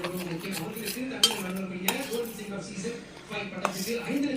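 A spoon stirs eggless cake batter with cocoa powder in a bowl, giving soft scraping and occasional light clinks against the dish, while someone talks steadily over the mixing.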